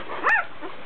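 Two-day-old newborn puppies give a thin, high whimpering yip, one brief cry close by over a steady background hiss.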